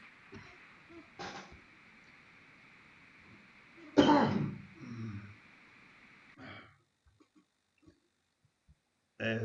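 A person coughs and clears their throat in a quiet room, a few separate harsh bursts close to the microphone, with one loud cough in the middle and brief pauses between.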